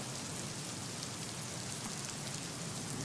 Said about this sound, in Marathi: जोरदार पाऊस मुंबईत बरसतोय